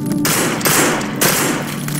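Gunfire in the zombie shooter No More Room In Hell, loud and close, two or three heavy shots in quick succession with a rumbling tail under each.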